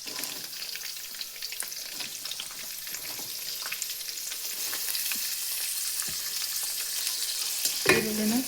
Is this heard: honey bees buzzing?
no